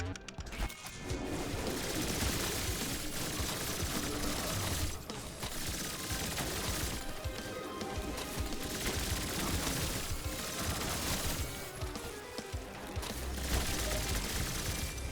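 In a video game, a new gun fires in a dense, continuous rapid-fire clatter with mechanical ratcheting, loud and unbroken, pausing briefly between long bursts.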